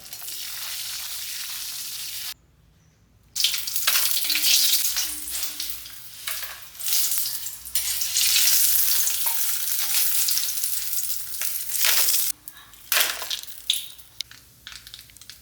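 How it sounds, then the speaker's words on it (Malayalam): Kondattam chillies, sun-dried stuffed chillies, fry in hot oil with a loud, steady crackling sizzle. The sizzle breaks off briefly near the start and again near the end, with occasional sharper pops and stirring. "ഇനിയിപ്പോൾ കൊണ്ടാട്ട മുളക് ഇതും വറുത്തെടുക്കാം"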